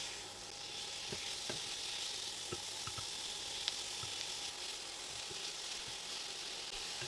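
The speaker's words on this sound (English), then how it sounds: "in with the chicken and stir fry the chicken about 2 minutes till all the sides are white" Chicken pieces stir frying in a hot pan for a Chinese dish, a steady faint sizzle with occasional soft clicks of stirring, no voices.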